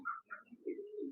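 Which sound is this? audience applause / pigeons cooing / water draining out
pigeons cooing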